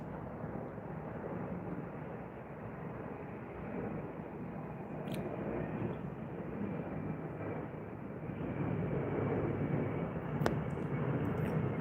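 Delta Airlines Boeing 787 Dreamliner jet producing a steady, broadband roar that holds at an even level and swells slightly toward the end, with no voices.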